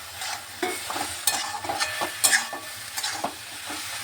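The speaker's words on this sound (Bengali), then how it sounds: "টমেটোটা দিয়ে আমি একটু ভালোভাবে একটু কষিয়ে নিচ্ছি" Tomato frying with partly cooked vegetables in a pan, a spoon scraping and stirring in irregular strokes over a soft continuous sizzle, close and clear with no voices.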